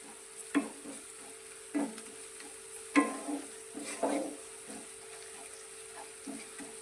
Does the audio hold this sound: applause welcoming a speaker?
no